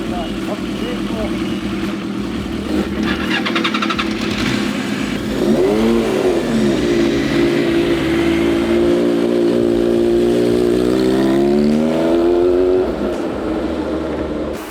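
A Kawasaki Z1 motorcycle engine idles loudly nearby, then revs up in a rising, sustained roar and settles back down.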